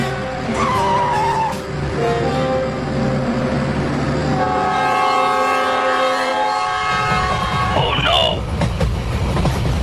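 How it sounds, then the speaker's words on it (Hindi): A cartoon train pulls away with a loud horn blast and a clattering, rumbling roll that keeps building, heard close alongside background music and effects. "पापा देखो वो ट्रेन चलने लगी।"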